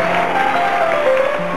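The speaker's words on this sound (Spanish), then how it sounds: "El aplauso para Carlitos." A studio audience applauds for Carlitos at a 1988 Córdoba TV variety broadcast held in a stadium, giving a dense, steady wash of clapping with faint tonal hum, continuous and fairly loud throughout.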